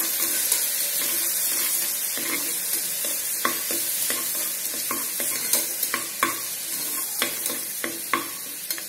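Ginger garlic paste sizzles and spits in hot oil in a pan, with crackling pops and scraping stirs growing more distinct toward the end.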